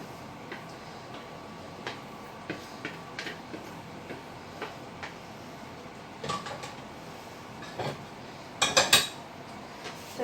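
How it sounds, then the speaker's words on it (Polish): Pasta being mixed with vegetables in a pan, with scattered light clinks and taps of a utensil against the cookware and a brief louder cluster of clatter near the end over a quiet background. "nasz makaron mieszam z warzywami"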